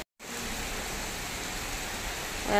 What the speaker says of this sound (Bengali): এখন মুষলধারে বৃষ্টি যাকে বলে